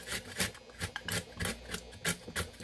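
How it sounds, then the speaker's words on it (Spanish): An onion being grated by hand, a steady run of short rasping strokes roughly every half second, close and moderately loud with no talking over it. "Vamos a proceder a rallar la cebolla."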